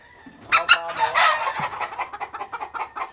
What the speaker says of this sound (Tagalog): Ito yung broodcock natin na nanggaling sa breeding pen number 10.